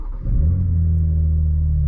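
A BMW M2 engine revs up sharply and then holds a deep, steady rumbling idle close by, loud and alone with no voices.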